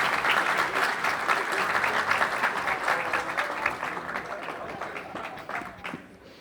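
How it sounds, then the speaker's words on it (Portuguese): A conference audience at a Brazilian rail industry event bursts into sustained applause that starts loud, then slowly thins out and fades over several seconds. "mais palmas então agora para a categoria 2"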